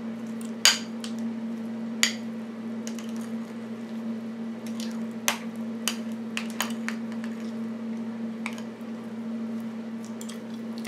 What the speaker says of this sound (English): Make sure you mix it really well.